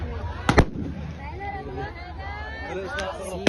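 Firecrackers burst at a crowded Holi celebration, two sharp close cracks early on and another pair near the end, over steady crowd chatter and a voice speaking.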